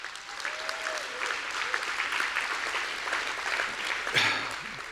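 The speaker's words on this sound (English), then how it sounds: "How about a round of applause for our MC, Darrell Evans?" Applause for the master of ceremonies at a business awards celebration: continuous crowd clapping, fairly soft and distant, running steadily throughout.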